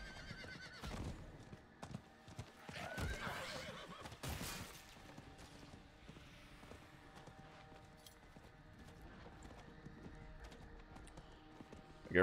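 A horse in a video game neighs loudly near the start, followed by steady galloping hoofbeats that carry on through the rest, with no talk over them.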